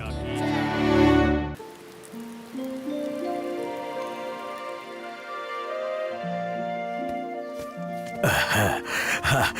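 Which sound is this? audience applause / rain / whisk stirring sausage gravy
rain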